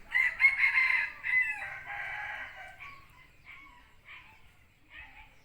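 A rooster crows once in a long, loud call that trails off into softer clucks and fowl noises, fairly close.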